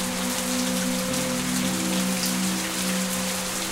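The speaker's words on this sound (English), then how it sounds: "Kind of sheets of rain coming and going there on the screen." Rain falling in the video game The Path, a steady dense patter of drops on surfaces with a constant low tonal hum beneath, even and unbroken with no voices.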